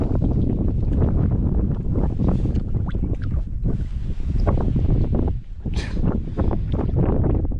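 Strong wind roars and buffets the microphone continuously while fishing from a boat for winter redfish, with water slapping faintly beneath the steady gusting.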